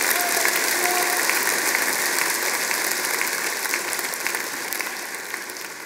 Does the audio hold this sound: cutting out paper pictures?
no